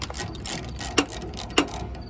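A ratchet wrench loosens 12mm bolts on the fuel tank of a 2003 Kawasaki Vulcan VN1600 motorcycle, with two sharp clicks standing out above steady close-range ratcheting.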